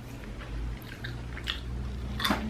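Crispy-battered KFC fried chicken is bitten and chewed up close, with a few crunchy, wet crackles and soft squishy chews over a low background hum, and no talking.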